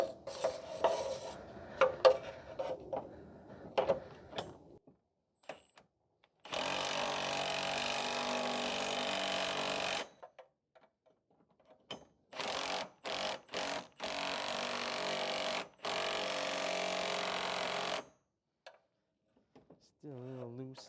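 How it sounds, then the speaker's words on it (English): A power tool tightens tow hitch bolts on a Pontiac Vibe or Toyota Matrix in several loud, sustained bursts separated by pauses, after someone talks briefly at the start. "So I'm just going to tighten the bolts down now."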